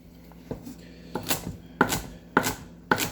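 A knife rough-cuts celery tops on a cutting board in a kitchen, giving about five sharp, close chops at an uneven pace, alone without talk.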